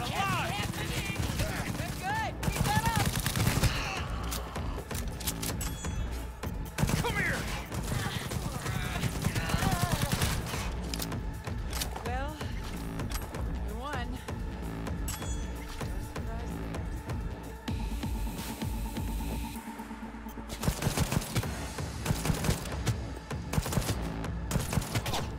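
Valorian 3516 pistol fire in Cyberpunk 2077, rapid bursts of gunshots crackling through a busy firefight over about twenty-five seconds, mixed with game effects and a talking voice.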